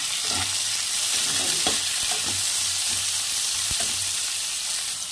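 A masala of grated tomato, garlic paste and ginger paste sautés in a pan, a loud steady sizzle throughout with a few soft scraping stirs underneath and no voices.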